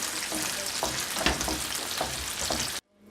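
Onions sizzle steadily in hot oil for a chilli chicken dish, with a few soft scrapes of a spoon stirring them, a close, continuous fry that cuts off abruptly near the end.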